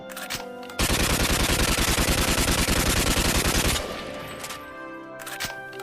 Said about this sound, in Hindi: चलो सब हवाई फायरिंग करो।